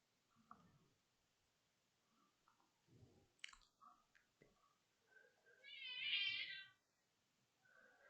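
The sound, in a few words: cat meowing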